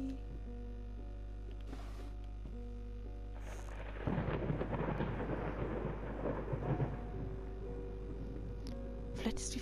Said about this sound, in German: Ich hoffe nicht, weil Gewitter und so